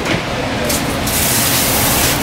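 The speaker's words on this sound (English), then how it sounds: "Spray all the extra food off." A pre-wash sprayer at a commercial dishwasher blasts water to rinse food off a center screen, a loud, close, continuous hissing spray throughout.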